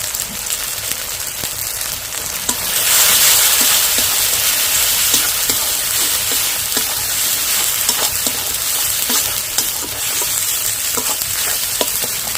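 Ground cumin, coriander, turmeric and chili powder sizzle loudly in a pan for ghugni and are stirred. The hiss swells after a few seconds, and a spoon scrapes and taps in an irregular rhythm.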